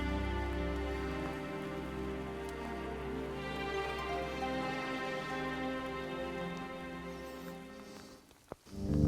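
Steady rain falls outdoors at a black bear hunting bait site, a continuous close patter that holds level throughout, with a sharp knock near the end.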